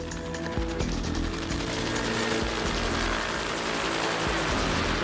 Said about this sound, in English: Choppers coming in, and it looks like they're landing